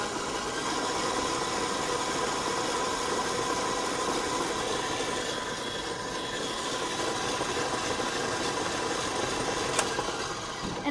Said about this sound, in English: I'm gonna turn this mixer up pretty high